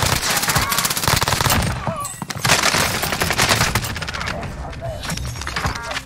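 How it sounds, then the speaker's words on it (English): Rapid automatic gunfire and bursts of shots crackle loudly in Call of Duty Warzone during an MP7 match at Fortune's Keep, with dense, overlapping volleys and brief pauses between them. "Oh, I'm getting shot from there."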